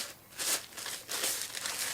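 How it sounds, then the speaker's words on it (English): A plastic bag around an audio mains filter unit is nicked open and handled, giving bursts of close crinkling and rustling with brief pauses between the handling movements. "a couple of nicks on the plastic bag, and we're in"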